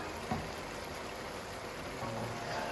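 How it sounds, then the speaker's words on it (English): Porcini soaking water is poured into a pumpkin and sausage risotto, making a steady, close trickle and splash that runs through the whole moment with no talking. "I'm gonna add the remaining of my porcini water"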